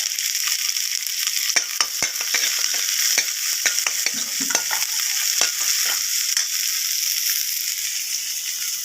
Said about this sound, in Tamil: கடுகு பொங்கிச்சு